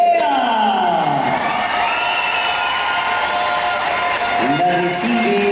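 Loud, sustained crowd applause with cheering and whoops at a medal and awards ceremony in Caracas, greeting the Perea circus family, with voices and music mixed into the steady roar of clapping.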